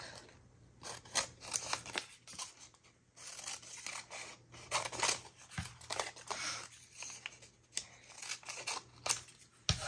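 Scissors trimming paper for an art journal page, a close series of crisp snipping cuts in irregular bursts with brief pauses between strokes, no talking.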